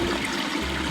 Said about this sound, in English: We're dumping our water, our dirty water from the sink